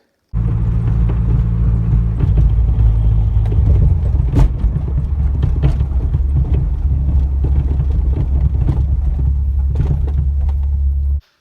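Rapid metallic rattling and knocking from a loose coilover spring over a steady low road rumble inside a moving Subaru Forester, continuous and fairly loud throughout.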